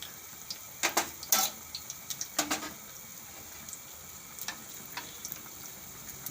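Bread fritters crackle and sizzle in hot oil, with sharp bursts of spattering and a soft background hiss.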